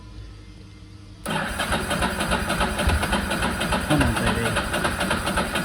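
A Ducati motorcycle pulled out of long storage is turned over on its electric starter, and after a second of quiet it whirs and churns loudly and steadily up close, while a person murmurs encouragement over it.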